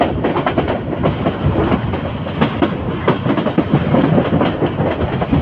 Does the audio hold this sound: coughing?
no